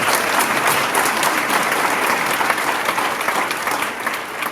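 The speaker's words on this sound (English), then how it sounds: "Why don't we give her a round of applause?" An audience breaks into sustained, dense applause to welcome First Lady Sarah Stitt, loud and even throughout before easing slightly at the end.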